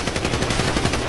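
Rapid automatic gunfire rattles in a video game, a dense, loud burst of evenly spaced shots that runs without a break.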